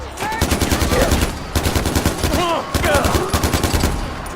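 Automatic gunfire is shot into the sky in the video game Far Cry 4, two long rapid bursts of close, loud shots with a brief gap between them and some voice-like sounds mixed in.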